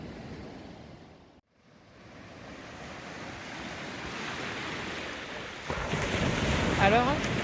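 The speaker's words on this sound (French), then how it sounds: "En plus, il y a des belles vagues" Ocean waves roll and break on a beach at Sainte-Anne, Martinique, a steady wash of surf with gusts of wind buffeting the microphone, growing louder toward the end.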